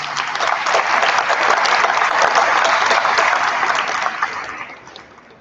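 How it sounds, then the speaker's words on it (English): An audience at a university graduation awards ceremony breaks into strong, dense applause that holds steady, then begins to thin and fade toward the end. "So please let's give them both a round of applause"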